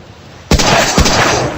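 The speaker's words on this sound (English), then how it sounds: "I want to get one gunshot in before I mute that." Two sharp gunshots ring out about half a second apart in a shooter video game, each with a sudden loud crack followed by a rumbling tail that fills the rest of the moment.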